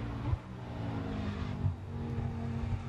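Audi and BMW GT1 race cars pass on the Slovakia circuit during qualifying, their engines a steady, droning roar that holds without a break.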